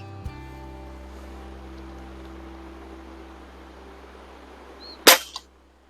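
A single close shot from an Erma ELG10 lever-action air rifle, a sharp crack after a few seconds of quiet room tone and a faint earlier click.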